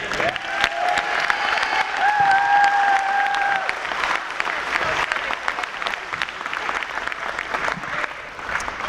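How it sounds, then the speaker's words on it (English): A crowd at a spring national signing day ceremony applauds steadily and loudly, dense clapping and some cheering sustained throughout, with a faint voice and a short tone near the start. "Let's give another round of applause,"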